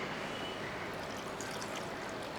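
Water is poured into a pot of mutton curry, a soft continuous splashing trickle that stays fairly faint and steady for a couple of seconds.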